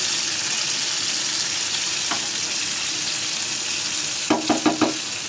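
Thin eggplant slices fry in an oiled pan with a constant close sizzle, then four quick clacks of a spatula flipping them near the end, no voices.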